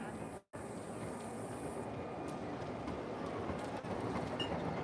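Tram rumbling along its rails in Port de Soller, Mallorca: a broad continuous roar with faint clicks and a brief dropout near the start; no one speaks.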